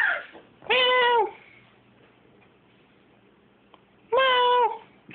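Two distinct cat meows, each about half a second long and a few seconds apart, with quiet room noise in between.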